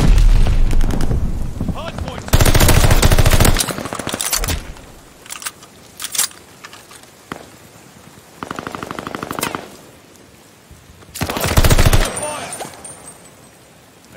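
Automaton rifle in Call of Duty: Vanguard ranked play fires in several loud, rapid automatic bursts, separated by quieter stretches of game sound.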